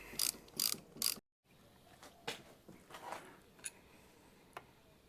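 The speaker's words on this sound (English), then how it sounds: "Remove the 4 10 mil bolts." A ratchet works 10 mm bolts off a Mercury outboard water pump housing: three quick bursts of close ratcheting clicks, a brief pause, then scattered lighter ticks and taps.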